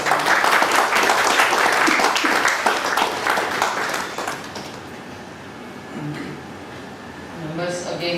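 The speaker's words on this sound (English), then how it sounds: "A round of applause." Audience applause at a study circle meeting as a memento is handed over, dense clapping for the first several seconds, then thinning and fading into room noise with a few scattered claps.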